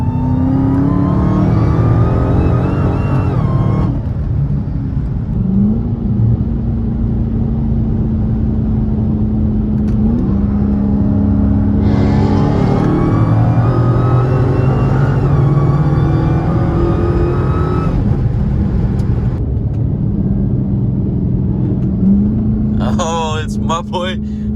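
A 1,000 hp supercharged Dodge Hellcat accelerating hard from inside, engine roaring in long climbing pulls broken by gear changes, with a high whine riding on top, loud and continuous throughout.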